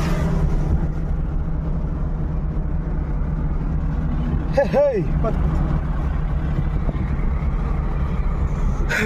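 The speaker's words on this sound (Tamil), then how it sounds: "பாருங்க, பக்கத்து சீட்ல உட்காந்து வண்டி ஓட்டுறேன்" A Force Gurkha off-road vehicle drives near Pulicat lake, its steady low engine rumble running throughout with a brief louder swell midway, while voices talk inside the cabin.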